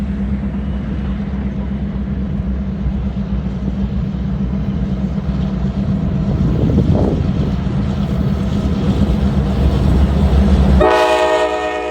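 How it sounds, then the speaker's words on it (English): The KCS Holiday Express passenger train snakes through sharp curves over an old rail diamond, its loud, steady rumble passing close by before a sharp, sustained horn blast near the end. "we find our train once more snaking through a series of sharp curves over the diamond of the old Cotton Belt main line"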